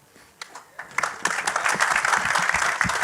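Applause from a live audience at a film promotion event for Yamla Pagla Deewana, starting with scattered claps and quickly swelling into a dense, steady ovation that carries on to the end.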